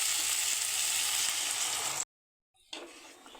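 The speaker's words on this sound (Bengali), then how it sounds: "আমি এবারে এটা মশলার জলটা দিয়ে দিচ্ছি" Spiced water poured into a hot pan for a rohu fish and okra curry, producing a loud steady sizzle that cuts to silence, then resumes more softly.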